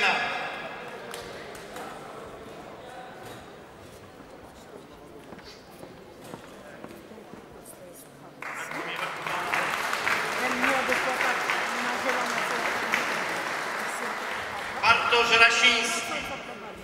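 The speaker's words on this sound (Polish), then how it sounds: "Szanowni Państwo, naprawdę gorące brawa" A crowd at a youth Olympic boxing gala, Świętokrzyskie against Lubelskie, swells into loud applause halfway through after a quieter stretch, with a voice speaking over the hall and a brief louder burst near the end.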